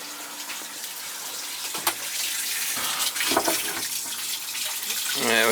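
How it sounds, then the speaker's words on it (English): Water gushes steadily through a Taco circulator's leaking shutoff flange, a continuous rushing flow that grows louder toward the end, with brief voices and a few knocks in the background. "Yeah, we're getting a good flow now."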